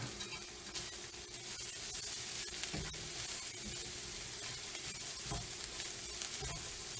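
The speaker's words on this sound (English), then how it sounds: "we're just going to stir that up." Spinach and dill sizzle steadily in a hot pan, a close, continuous crackle broken by the scrape and clack of stirring, with no voices.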